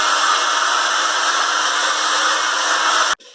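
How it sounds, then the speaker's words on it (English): Hairdryer blows warm air onto a door freshly coated with quick-drying acrylic undercoat primer, a steady loud whirring hiss that cuts off abruptly near the end. "help it to dry with a hairdryer"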